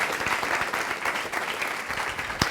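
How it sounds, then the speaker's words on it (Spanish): A church congregation applauds together in a dense, steady burst of clapping that lasts throughout, fairly loud and close, with no voices standing out. "Dele ese fuerte Give a aplauso al strong Rey de applause to the Reyes."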